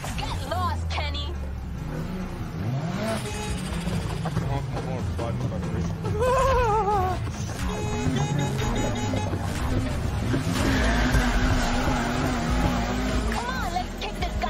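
Race cars in Need for Speed Heat rev and roar continuously, with engine pitch rising and falling under steady conversation between drivers.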